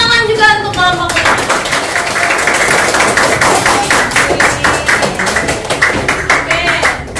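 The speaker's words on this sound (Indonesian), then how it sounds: "tepuk tangan juga untuk kelompok ini" A class claps hands for a presenting group, a brisk burst of many palms tapping together close by, starting after a brief bit of voice and holding steady for several seconds.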